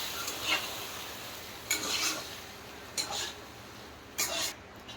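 Boiled chickpea dal is stirred and fried in a pan, with four separate bursts of scraping and sizzling at irregular intervals over a low, quiet background hiss, close by, no talking.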